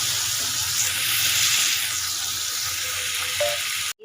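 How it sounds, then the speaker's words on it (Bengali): Chopped tomatoes with spices sautéing in a pan, a bright steady sizzle with scraping stirring, loud and close, cutting off abruptly at the end. "কষিয়ে নেব ভালো করে।"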